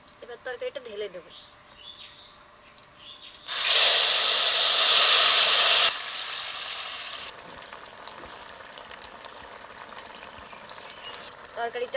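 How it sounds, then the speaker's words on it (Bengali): Curry is poured into hot mustard oil tempered with cumin, and a loud burst of sizzling hiss follows. The sizzle lasts a couple of seconds before it settles to a softer simmer, with faint voices at the start. "এবার তরকারিটা ঢেলে দেবো।"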